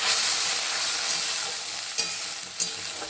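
Spice paste fries in a hot kadai (wok) with a steady, loud, close sizzle, and a couple of sharp scraping stirs break through near the end.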